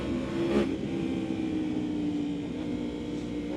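A Yamaha R1 sport motorcycle engine hums steadily while being ridden, a continuous droning roar with a slight swell near the start, heard from on the bike at moderate level without speech.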